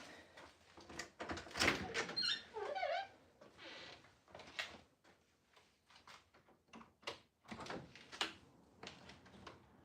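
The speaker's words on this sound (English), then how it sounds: "I gotta open up this back door" A back door in a basement home gym is opened with a run of clattering knocks, scrapes and a brief squeak, then scattered bumps and rattles, fairly close and with no voices.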